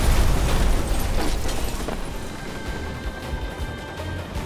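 A grenade blast in the action game Alpha Protocol, a loud crashing burst at the start that fades into a rumbling, debris-filled tail.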